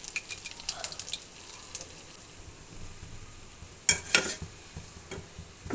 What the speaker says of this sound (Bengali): বারবার উল্টিয়ে পাল্টিয়ে এটাকে লাল করে ভেজে নেব